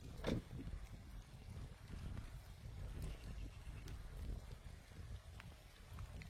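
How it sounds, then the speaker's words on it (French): Faint, steady hiss of distant rain spreading across the scene, a soft continuous wash with a few light knocks, no voices. "c'est le bruit de la pluie là-bas"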